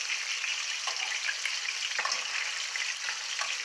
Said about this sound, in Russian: Если сковорода разогрета не очень сильно, сок будет выходить и брызгаться.